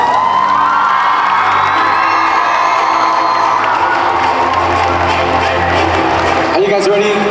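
At a Hmong New Year junior varsity dance competition in Milwaukee, a loud crowd cheers, whoops and shouts for the dancers, with some clapping mixed in. The roar stays dense the whole time and dips near the end.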